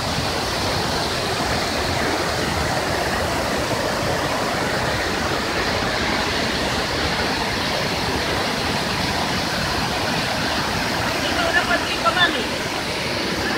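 Rushing river water flows steadily near its mouth by a bridge, a broad continuous roar throughout, with a faint brief sound near the end.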